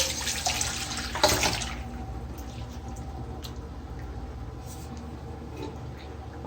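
Water is poured into a karahi of cooked mutton, a short splashing burst near the start followed by a quieter, fainter trickle and low background noise.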